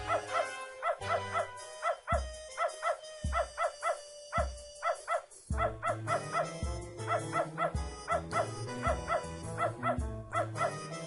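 A dog in the PC game Beneath A Steel Sky barks repeatedly in a rhythmic series of sharp yips and whimpering barks over a looping game music background, with no talking.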